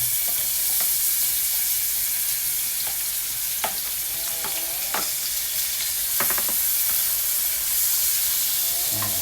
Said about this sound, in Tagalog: Lagay na po natin yung sibuyas para maluto ng ihain.